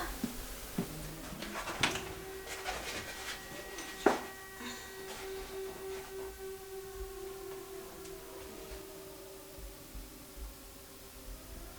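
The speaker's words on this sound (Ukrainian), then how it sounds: "Там сирена." A distant air-raid siren wails steadily in the background in Kyiv, its tone slowly rising and falling, with scattered clicks and soft rustling nearby, inside a cathedral being painted.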